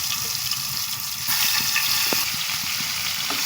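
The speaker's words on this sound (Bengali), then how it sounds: "আমার তেলটা গরম হয়ে গেছে। এখন আস্তে আস্তে পটলগুলো ছেড়ে দেব।" Slices of pointed gourd (potol) frying in hot oil, with a continuous close sizzle and a few small pops and clinks. Nobody talks.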